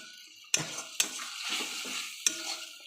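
A spoon stirs poppy seed paste with chopped tomato and salt in a pan, giving a few distinct metallic scrapes and knocks against the pan over a soft sizzle, with no talking.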